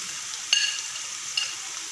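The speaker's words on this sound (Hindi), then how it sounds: "इसको थोड़ी देर के लिए भूनना है ताकि अदरक लहसुन का कच्चापन खत्म हो जाए" Ginger and garlic sauté in a pan as a quiet, thin hiss, with two brief clinks of a utensil, heard up close with no talking.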